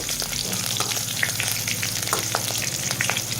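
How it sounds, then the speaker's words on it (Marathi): Steady crackling sizzle of curry leaves frying in hot oil, with scattered sharp pops over a constant hiss and no voices. "कढीपत्ता पण छान परतून घेऊया"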